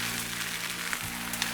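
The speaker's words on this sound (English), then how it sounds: "You hear it sizzle." Marsala wine sizzles steadily in a hot pan for chicken marsala, a close, even frying hiss with no voices.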